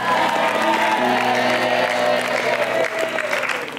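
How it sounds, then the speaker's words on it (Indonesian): A TV dating-show studio audience applauds and cheers loudly and continuously, with strong tonal music playing through the clapping. "boleh kita berikan tepuk tangan"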